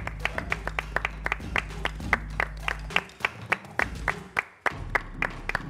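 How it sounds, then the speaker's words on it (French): A studio audience at a French talk show claps to welcome a guest, fairly close and steady for several seconds, then briefly thins out before picking up again. "On va recevoir notre CP Eliane Assoy, qu'on va accueillir avec des applaudissements parce qu'elle le mérite"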